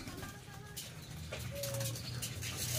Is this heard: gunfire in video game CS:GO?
no